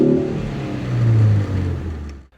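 A 2013 Ford Focus hot hatch revs its engine, the exhaust note rising loud and close, then dropping back and rising again before cutting off sharply; no one speaks.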